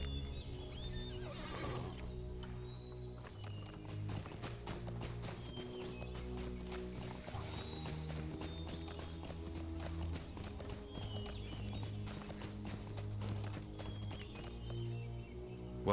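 A horse in the Lord of the Rings Online video game neighs and its hooves clip-clop in a steady rhythm, set against continuous orchestral game music with no one talking.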